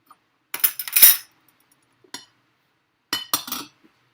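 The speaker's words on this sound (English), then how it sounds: "So I'm going to get my teaspoon" A metal teaspoon gives a few bright, close clinks against a sugar container, two quick clusters separated by quiet pauses and a single light tap between them.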